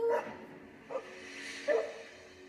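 A puppy in Dragon Age Origins gives three short, clear yips or whimpers spaced about a second apart over quiet game ambience.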